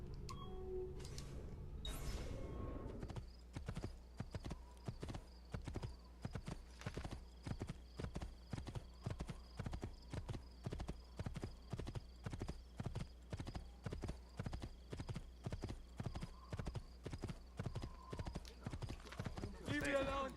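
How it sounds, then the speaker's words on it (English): Horse hooves trot in the video game Assassin's Creed II, a steady, regular clip-clop that runs throughout, with a few whinnies and talk near the start. "Oh, and now there's another horse."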